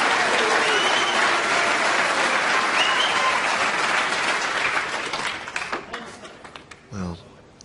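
Sustained applause from the audience at a Champion of Champions snooker match between Ronnie O'Sullivan and John Higgins, loud and dense at first, then thinning into scattered claps before a commentator speaks.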